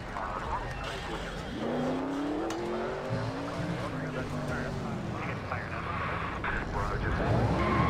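Race car engines in NASCAR Racing 2003, a steady roar of several cars with rising and falling engine tones, carrying on beneath someone speaking.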